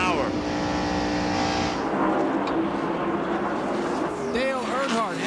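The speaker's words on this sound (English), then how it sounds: "These cars are going in these turns at about 200 miles an hour." NASCAR stock cars roaring through the turns at about 200 mph in the 1992 Hooters 500, engine whine rising and falling as cars sweep past close by, with a commentator talking over the noise.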